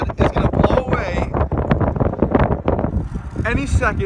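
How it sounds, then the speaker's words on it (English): Strong, cold wind at the beach buffeting the microphone in loud, gusty rumbles while a person talks continuously over it. "it is so windy, and it is so cold"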